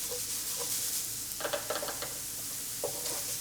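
Vegetables for veggie burgers sizzle and are tossed in a pan, with a steady frying hiss and a few soft scraping, shuffling bursts from the toss.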